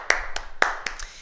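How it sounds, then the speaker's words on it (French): Four sharp hand claps from a small group of participants in a martial movement class ring out in an uneven rhythm, close and distinct with brief gaps between them. "Et on s'applaudit encore"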